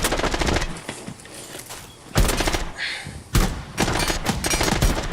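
Video game automatic gunfire sprays at bricks in rapid, loud bursts of close rattling shots, with brief gaps between the bursts.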